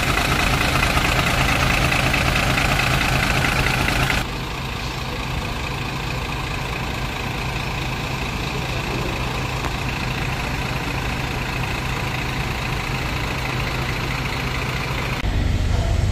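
A brand-new 2024 DLTB bus's diesel engine idles close by, a constant low rumble with a brief louder stretch at the start and end.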